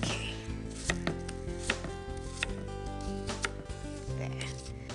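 Apples are chopped with a knife on a board, giving a quick run of close, crisp cutting thuds and crunches with background music underneath.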